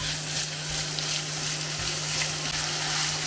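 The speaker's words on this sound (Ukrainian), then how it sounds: "Далі підсмажимо болгарський перчик" Bell pepper fries in a pan with a loud, steady sizzle and crackle that holds evenly throughout, close up with a faint low hum underneath.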